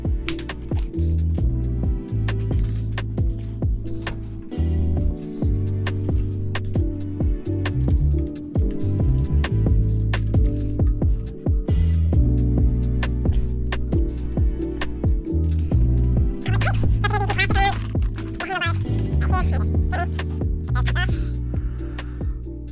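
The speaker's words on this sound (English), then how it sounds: "place the screws back in, and then tighten those all the way" Screws being driven back in and tightened on the handlebar of a GOTRAX Flex electric scooter, heard as a string of small metallic clicks, ticks and taps close up, with light rattles toward the end.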